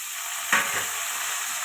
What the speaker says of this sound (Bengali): আলুটা ভালো করে ভেজে নেবো পেঁয়াজের সঙ্গে